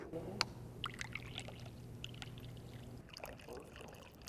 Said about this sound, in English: And we'll do a little pouring.